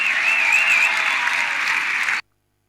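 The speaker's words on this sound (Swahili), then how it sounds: "Pigeni makofi basi." A studio audience at a live weekend television show claps steadily and loudly for about two seconds, a dense wash of applause that cuts off sharply.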